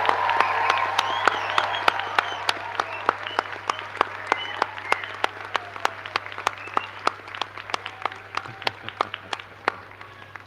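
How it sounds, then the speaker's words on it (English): A graduation audience of nursing and midwifery graduates and families claps and cheers loudly and continuously, dense applause filling the hall with sharp individual claps standing out throughout. "Give them a huge cheer."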